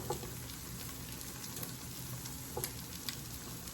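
A large slice of sourdough French toast fries steadily in a pan, a continuous close sizzle with a few brief crackles and pops, no voices.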